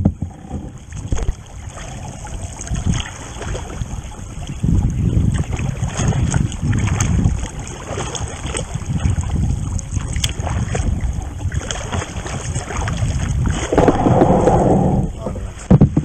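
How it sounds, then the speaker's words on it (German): Kayak paddling on the Schwentine river, with the bow pushing a wave of water: continuous rushing, splashing water noise close by, surging in strength throughout with brief louder bursts and no talk. "Diese Flutwelle, die ich mit mir reiße, hört sich mal geil an."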